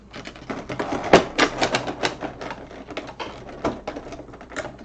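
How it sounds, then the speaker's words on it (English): Zip ties being cut and pulled off the packaging of a simple stool during unboxing, a run of sharp irregular clicks and snaps with plastic rustling, close and fairly loud, no talking. "but I have to get rid of these zip ties first"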